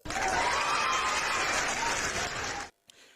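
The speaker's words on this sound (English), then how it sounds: "Let me clap for everybody." Hand clapping during a live online broadcast, heard as a dense, steady burst of applause-like clapping that cuts off abruptly, followed by near silence and a faint brief sound.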